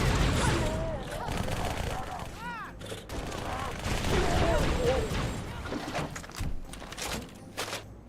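Halo 2 battle gunfire, with bursts of rapid shots and crashes that blend into a dense, noisy mix under shouted voices and in-game chatter.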